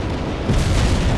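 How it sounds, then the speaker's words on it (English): An artillery strike in World in Conflict lands as a loud, deep boom that rises abruptly into a sustained rumbling roar, close and heavy. "Romanov, call in artillery and airstrikes on them."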